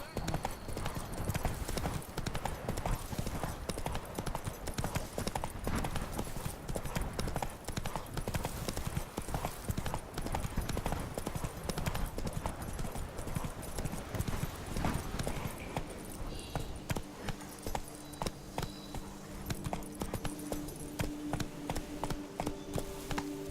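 Hoofbeats of the horse Roach galloping in The Witcher 3: Blood and Wine, a loud rapid clip-clop running steadily throughout, with a voice speaking over it and the pace easing toward the end.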